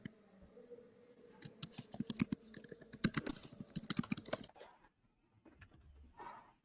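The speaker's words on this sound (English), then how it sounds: "Oh, I can hear her typing now." Quick, uneven keystrokes clatter on a computer keyboard, close and fairly quiet, in bursts lasting several seconds before trailing off.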